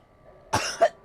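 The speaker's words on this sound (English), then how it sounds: "I'm coughing all of a sudden." A person coughing twice in quick succession, close and fairly loud against near silence, with a brief throaty edge.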